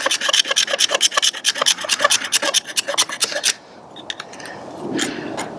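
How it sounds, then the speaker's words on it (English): The sharp spine of a Hooyman 6-inch Megabite folding saw scrapes fat wood in rapid, steady rasping strokes, close and loud, then stops, leaving a quieter rustle. "Go ahead and take and scrape some fat wood there."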